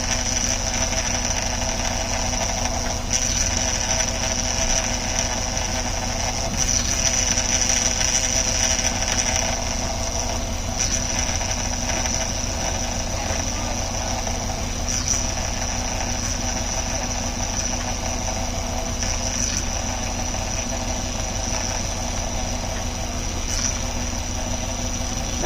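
The power steering pump of a 2004 Acura MDX whines during a fluid flush, a steady high-pitched whine over the engine's idling drone, continuous and close, with brief louder moments.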